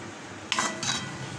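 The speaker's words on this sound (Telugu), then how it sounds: "సో ఇప్పుడు దీన్ని బాగా కలుపుకుందాం." A spoon scrapes and clinks against a pan while paneer curry is stirred, two quick close metallic strokes over a low background hum.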